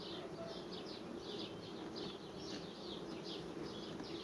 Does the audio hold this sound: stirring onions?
no